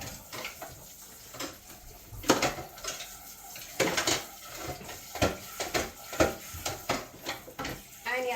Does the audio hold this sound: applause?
no